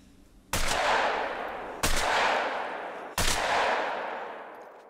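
Three loud shotgun blasts ring out in theHunter: Call of the Wild, evenly spaced about a second and a half apart, each with a long rolling echo that fades before the next.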